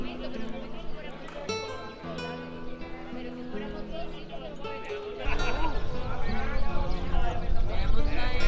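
Horses walking through the streets of El Rocio in Andalusia, their hooves clopping at a moderate distance beneath a speaking voice and music, with denser, louder noise in the latter half.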